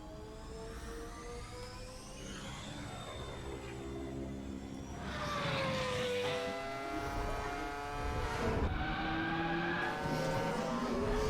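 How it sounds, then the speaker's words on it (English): A podracer engine in Kerbal Space Program whines with a motorbike-like tone, its pitch climbing and gear-shifting through repeated revving sweeps, fairly loud with no talk. "Why does it sound like a motorbike?"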